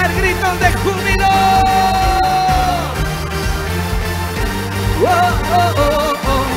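A congregation at a church service in Patzité, Quiché, lets out loud overlapping shouts and whoops of joy, with excited voices rising and falling over a dense, crowded background.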